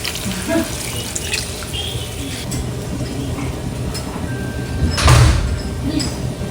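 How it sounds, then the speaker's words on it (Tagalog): Water poured from a tap or container into a pan of squid adobo, a steady splashing trickle with a brief louder gush near the end, close by in a home kitchen. "Lalagyan rin po natin ito ng kaunting tubig."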